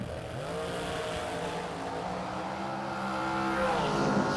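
Drag racing dragster built in 2014 with a 565 cubic inch blower engine, a loud sustained engine roar with rising and falling harmonic tones, swelling louder toward the end.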